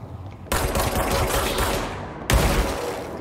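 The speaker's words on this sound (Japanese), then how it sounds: "爆発。" Explosion in the video game Control, two loud bursts arriving abruptly and close together, the second sharper, each trailing off into a rumbling wash with no voices over it.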